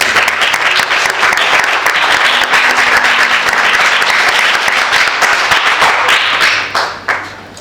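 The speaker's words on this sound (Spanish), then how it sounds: "¿Estos aplausos son por mí o por ella?" Loud, close applause from the audience at a book presentation, a dense sustained clapping that tapers off into a few last claps near the end.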